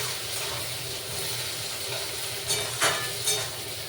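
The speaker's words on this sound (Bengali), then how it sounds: "এই যে তেলের উপর পেঁয়াজ দিয়ে দিচ্ছি চলো পেঁয়াজ ভাজতে ভাজতেই এর মধ্যে সব কিছু দেওয়া যাবে" Onions fry in hot oil with a steady, close sizzle, and a few quick stirring scrapes break in near the end.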